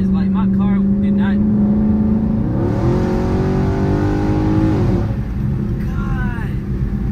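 A Chrysler 300 SRT 392 car engine rumbles loud and close, swells into a long rev, then drops back to a heavy idle while voices talk faintly.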